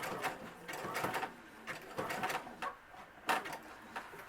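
A sewing machine runs in short, quick bursts of rapid mechanical stitching on a medical face mask, stopping and starting several times, close and moderately quiet.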